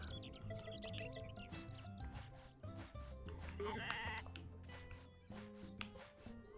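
Sheep in the farming video game Story of Seasons: A Wonderful Life let out several close, distinct bleats over light background music.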